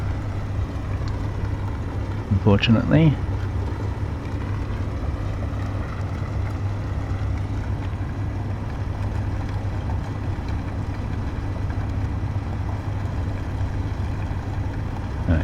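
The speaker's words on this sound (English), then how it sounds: "So I think having those engines on is going to get a little noisy" Engines in the video game Space Engineers run as a steady, loud, unbroken mechanical drone throughout, with a voice briefly speaking over it early on.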